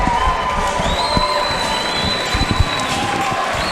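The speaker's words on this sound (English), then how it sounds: "So the hometown crowd goes nuts for the man they call the Prince." Hometown crowd at a Coastal Combat fight night roaring and cheering as local fighter Lewis Shally walks out, a dense sustained wash of voices with scattered whistles and shouts.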